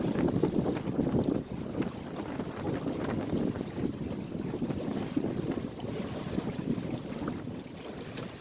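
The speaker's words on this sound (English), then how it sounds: "we're still sailing into the wind, and the lee board has been pulled out to a degree" A sailboat with lee boards and bilge keels sails into the wind on open water, with steady rushing wind noise and water wash filling the whole stretch without voices.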